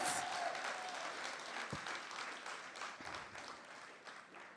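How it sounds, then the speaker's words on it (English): Applause from a graduating class at a community college ceremony fills the whole stretch with a steady, dense clapping that gradually eases off toward the end. "Give yourself a round of applause, man."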